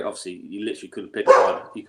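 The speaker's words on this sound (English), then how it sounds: "That's my dog saying hello." A pet dog barks once, close by, during a football preview chat and right over a voice as he talks.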